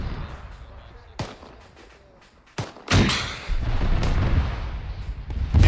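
Gunfire in a military simulation game: several sharp, loud shots and booms ring out separately, followed by a sustained rumbling roar, with faint voices in the background.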